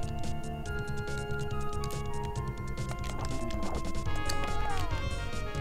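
Inside a video game, a horse's hooves beat rhythmically in a busy, layered soundscape with game music tones and sharp impacts as the horse falls, and quiet talk runs underneath.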